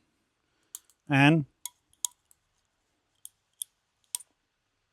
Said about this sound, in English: That was just springs clicking inside it.